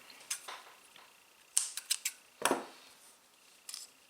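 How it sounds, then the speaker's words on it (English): Scissors snipping crochet yarn after finishing a Mile a Minute afghan panel, a few quiet, close, crisp clicks and cuts spaced irregularly against near silence. "I'm going to cut my yarn"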